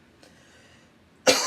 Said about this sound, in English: I could just be coughing.